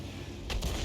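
Artillery shells striking during a World of Tanks-style tank battle, a muffled burst of impacts landing around midway and rumbling on under a low, steady game background.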